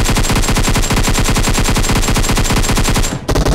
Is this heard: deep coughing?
no